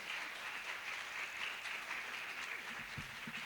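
An audience applauds at a community talk event in Midland, Michigan, a steady wash of many hands clapping at a distance, fairly quiet and sustained without pause.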